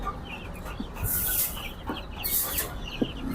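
Sonali hybrid chickens cluck at a wholesale poultry market, with several short, scattered calls rising over a steady background of market noise.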